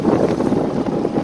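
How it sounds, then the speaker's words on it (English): Wind rushes steadily past the microphone on a sailboat motor sailing across open water, a loud continuous buffeting roar with a low rumble beneath and no voices. "this will give you an idea how much wind there is out here"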